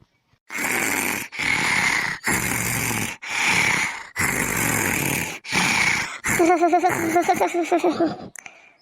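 A cartoon character snores loudly in six rhythmic, drawn-out rasping breaths, followed by a burst of wobbly snorting, all close up with no other sounds around it.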